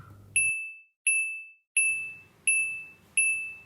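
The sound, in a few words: smartphone notification ding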